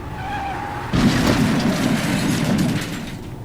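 A Mustang swerves hard with its tires skidding, a loud sudden screech bursting in after a quieter hum and sustained for about two seconds before easing off.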